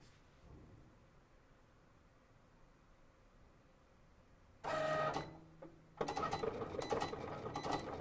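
A Cricut machine cuts vinyl for decorating party glasses. Near-silence gives way to sudden bursts of busy mechanical whirring and clicking, with a short pause between them, and no voices.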